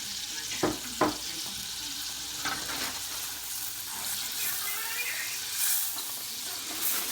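Shrimp sizzling in a pan with garlic for shrimp scampi, a steady close hiss with a couple of sharp clinks early on and light stirring, faint background murmur.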